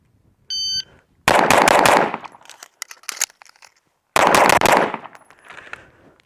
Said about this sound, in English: fire 4 rounds, reload and fire another 4 rounds